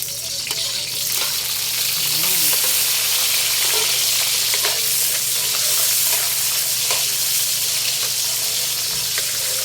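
Onion and tomato fry in a pan with a loud, continuous hissing sizzle, close up, with occasional faint stirring clinks and no speech.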